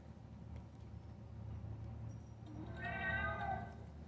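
A house cat lets out one drawn-out meow partway through, rising over a steady low hum of indoor background noise.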